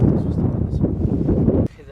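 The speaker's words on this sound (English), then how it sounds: "Super windy out here." Strong wind buffets the microphone outdoors at an abandoned cattle ranch campsite, a loud steady roar that cuts off abruptly near the end.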